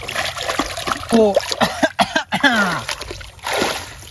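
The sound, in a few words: washing a mud crab in water, splashing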